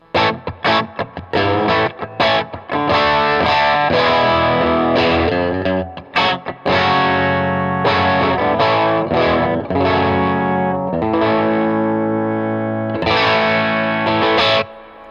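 A Fender American Professional Classic Stratocaster on the bridge pickup with the tone rolled back almost halfway, playing mellow chords and single-note phrases with some effects and pauses between bursts.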